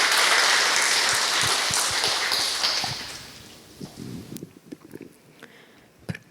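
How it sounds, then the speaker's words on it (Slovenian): A church congregation at a Sunday service applauds, a loud burst of clapping for about three seconds that quickly fades, leaving scattered faint claps and small noises. "mislim, da si zaslužijo en aplavz tile naši junaki"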